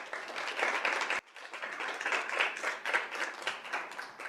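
An audience at a school governing board meeting claps in a steady burst, briefly cut off partway, then resuming with individual claps audible within the crowd.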